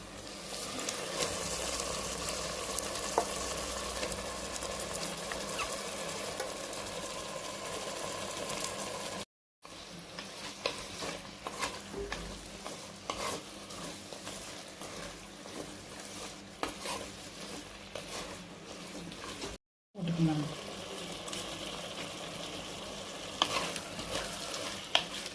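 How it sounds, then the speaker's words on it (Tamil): Half a kilo of chicken fries in a pan with chilies while being stirred, giving a continuous close sizzle broken by scraping stir strokes, with two short silent breaks, and no talk. "இந்த டயத்தில் சிக்கனை போட்டுக்கலாங்க ஒரு அரை கிலோ இருக்குங்க"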